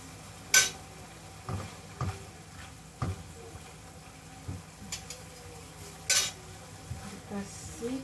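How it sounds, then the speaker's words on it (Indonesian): A spoon stirs food in a pot over the stove while making a simple dinner, scraping and clinking against the sides in a few sharp, separate strokes over a low, steady sizzle. "Aduk-aduk."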